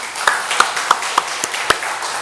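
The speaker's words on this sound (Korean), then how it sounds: "하나님께 영광의 박수 돌리겠습니다" A church congregation claps in a loose, sparse rhythm of distinct hand claps during a worship service, close and moderately loud.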